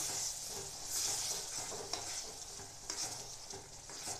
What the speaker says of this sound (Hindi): पानी डालकर हम इसे अच्छे से मिक्स कर लेंगे।